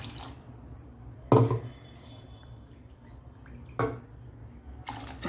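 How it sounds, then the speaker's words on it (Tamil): Water splashes and pours while a mixer grinder jar is rinsed in a kitchen, a few short bursts with quiet gaps between them, close by, with no talking. "இப்போ இந்த மிக்சியை வந்து கழுவி கொஞ்சம் தண்ணி ஊற்றிக்கலாம்."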